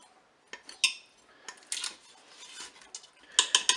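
Metal utensil clinks and scrapes against a Cookeo electric pressure cooker pot as chicken thighs are turned over, a series of sharp close clatters with quieter shuffling between them, no voices.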